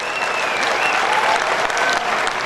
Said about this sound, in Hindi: तो एक बार जोरदार ताली बजाओ तब मंत्री महोदय घोषणा करेंगे।